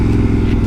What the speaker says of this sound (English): Alright, so I usually let my bike warm up.